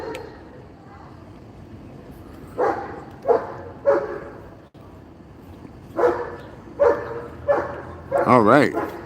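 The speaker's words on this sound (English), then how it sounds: "Her dogs are untrained and all they do is bark." A neighbor's untrained dogs bark in spaced bursts, moderately near, ending in a yipping whine, with a person talking over them.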